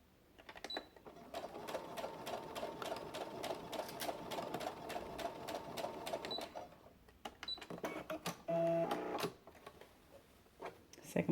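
A sewing machine back stitching a pleat on a dress bodice, its needle running in rapid, even bursts that pause and restart, heard close with no talking.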